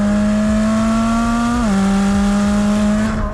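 A Ferrari mid-mounted engine with its throttles centred in the engine revs steadily at high pitch. It is a loud, sustained tone that dips briefly once before holding and then fading slightly at the end.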